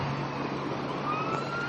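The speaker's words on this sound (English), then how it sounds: "Oh, there's already two police cars." A police car siren sounds at moderate distance, a steady wailing tone under dense traffic and road noise after a car accident, with no talk.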